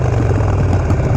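Harley Sportster motorcycle with Vance & Hines Mini Grenades exhaust rumbling at idle, a deep, steady, loud low throb held close throughout with no talk.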